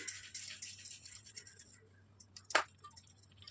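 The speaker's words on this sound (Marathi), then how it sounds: "इथे साईडला जी माती वगैरे लागलेली असते ती अशी ब्रश करायची" A brush scrubs mud off the shells of mud crabs, giving short close bristly scratching strokes, louder at first, then a sharp rasping burst near the end over a faint steady hum.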